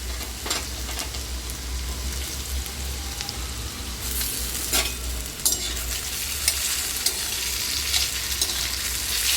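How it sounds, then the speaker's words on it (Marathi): Thin-sliced potatoes fry in oil in a pan for sabudana khichdi, giving a steady close sizzle and hiss with occasional stirring scrapes throughout and no talking. "आता आपले हे बटाटे आपण यामध्ये भाजून घ्यायचे, फ्राय करून घ्यायचे, म्हणजे तळून घ्यायचे"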